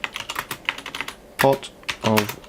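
Fingers type on a computer keyboard in quick, uneven bursts of close, crisp key clicks. A voice speaks briefly between the keystrokes.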